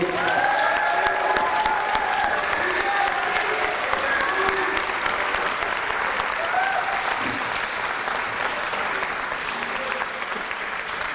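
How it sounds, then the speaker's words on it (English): At a girls varsity soccer state championship awards banquet, a room full of guests claps loudly and continuously, with scattered cheers and calls rising over the applause for more than ten seconds. "can we have a round of applause for the best girls soccer team in the state?"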